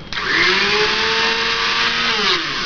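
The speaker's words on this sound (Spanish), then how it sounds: "Suena un poco mal porque hay que hacerle una reparación de pie, pero en sí la batidora está bien." A Taurus Super Robot bivoltage blender from 1976–1982 runs loud and close with a steady, slightly rough motor whine and a faint wavering hum. It needs a base repair, and no one speaks.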